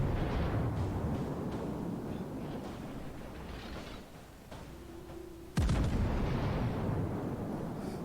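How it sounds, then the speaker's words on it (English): A battleship's main guns fire salvos in the naval combat game World of Warships. The deep, rumbling booms are followed by a sharp, loud blast near the end, with no talking over them. "Alright, there's a good salvo."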